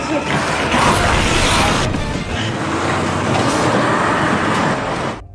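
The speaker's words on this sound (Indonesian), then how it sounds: "Beruntung mereka melihat Sung Tae yang mengendarai bus sekolah" A school bus drives in a zombie film, its engine roaring and rumbling loudly and steadily for several seconds before cutting off abruptly, with voices faint beneath the noise.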